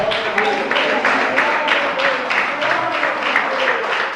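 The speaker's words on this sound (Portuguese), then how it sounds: "Palmas para Jesus, irmãos." Church congregation applauding for Jesus during a Portuguese-language sermon, rhythmic unison clapping in regular beats with some voices mixed in, fairly loud and close.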